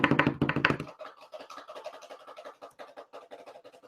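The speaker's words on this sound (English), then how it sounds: "Can you get a drum roll going over there," An improvised drum roll tapped out by hand on a surface, starting with a loud burst of rapid taps, then a quicker, softer patter of fingers that continues to the end.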